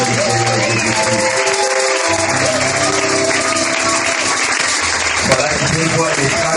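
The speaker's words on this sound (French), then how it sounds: "On acclame le nom du Seigneur Jésus-Christ." A church congregation applauds and acclaims the name of Jesus Christ, giving steady, loud, dense clapping that runs throughout, with voices calling out under the applause.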